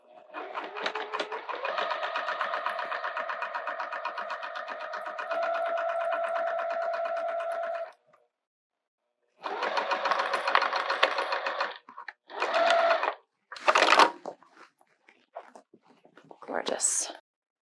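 A sewing machine top stitches quilting vinyl in loud, fast rhythmic bursts. One long run is followed by a pause, then several shorter runs and stops, up close.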